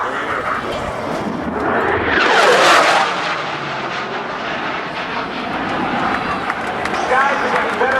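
A Canadian CF-18 Hornet jet fighter roars through a high-speed pass at a naval air station airshow, its loud engine rush swelling and sweeping past near the midpoint before settling into a sustained rumble, with crowd noise underneath.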